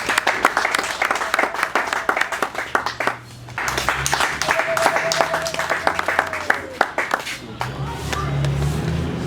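An audience applauds in rapid, uneven bursts of clapping that rise and fall, with voices talking over and between the claps.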